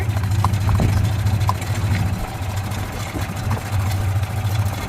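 A golf cart engine runs steadily at idle-like pace on a horse farm, a low continuous hum with a few faint knocks and clicks above it, fairly close and with no talking.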